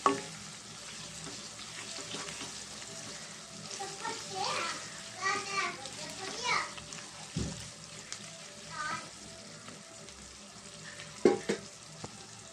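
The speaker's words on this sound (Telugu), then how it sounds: "అల్లం వెల్లుల్లి జీలకర్ర పేస్ట్ వేసుకున్నామండి ఇది కొంచెం పచ్చివాసన పోయేదాకా మనం దీంట్లో ఫ్రై చేద్దామండి" Ginger, garlic and cumin paste fries quietly in a pan, a soft low sizzle with occasional scraping stirs and clinks of a spoon, faint and intermittent.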